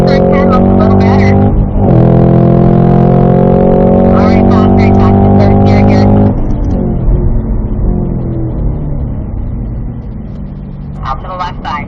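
A race car drives hard on a track, its engine roaring loudly with strong harmonic tones that climb through the revs, then drop and settle into a steady, quieter run, with a voice talking over it.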